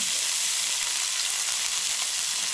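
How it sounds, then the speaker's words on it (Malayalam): Small shallots frying in hot coconut oil in a pan, a dense steady sizzle that stays close and even throughout. "നമ്മുടെ എണ്ണ ചെറുതായിട്ട് ചൂടായിരിക്ക അതിലേക്ക് നമ്മൾ ആദ്യം ചെറിയ ഉള്ളി ഇടുകയാണ്"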